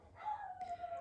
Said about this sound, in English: you can hear my dog howling